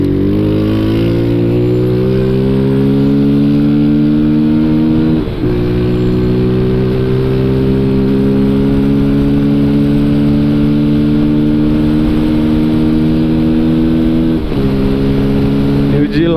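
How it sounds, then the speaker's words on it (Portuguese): A CG motorcycle engine with automatic transmission drones loudly and steadily, its pitch climbing as it accelerates, dropping briefly at gear-like shifts before rising again. "É automática a moto."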